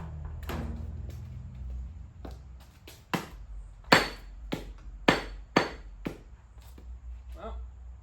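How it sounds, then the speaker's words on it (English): A carpenter hammer whacks a seized part on a 1967 VW Beetle locked up for nearly 40 years, a series of sharp metallic strikes spaced about a second apart, close and loud, with some background talk. "Let's whack that thing off with a hammer of some variety."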